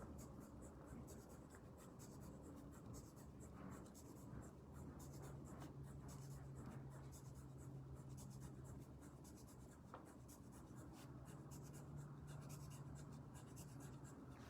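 A pencil scratches steadily across paper up close, a soft continuous rasp with faint strokes, quiet and without any talking.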